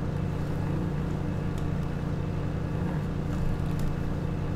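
Small yard-sweeping machine in Farming Simulator 2017 running with a steady, continuous low engine drone and mechanical hum, close and even throughout, with no talking.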